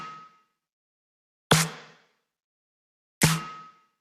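Three sharp, evenly spaced hits of a layered snare drum built in Ableton, each followed by a short, quiet reverb tail that fades into silence before the next strike.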